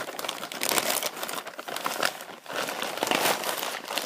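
A delivery box holding a Dune HD media player is opened with a Swiss Army knife, with close, busy crinkling and crackling of packaging material and short bursts of rustling and tearing.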